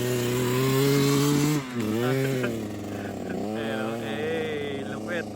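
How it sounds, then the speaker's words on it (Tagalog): A grass cutter engine runs loud and steady beside a beach resort facing a rock formation, its droning harmonic whine rising and falling in pitch as it revs, with a voice calling out over it. "Kasama nating grass cutter."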